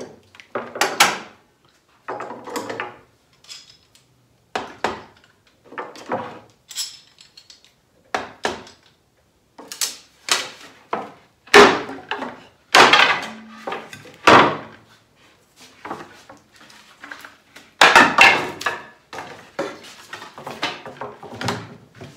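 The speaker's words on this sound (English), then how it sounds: "All right, our pieces had a chance to set, so we'll take off the clamps." Clamps are taken off glued pieces of old barn-beam wood in a workshop, producing a series of sharp wooden knocks, metallic clanks and rattles spaced irregularly, fairly close and loud, with no talking.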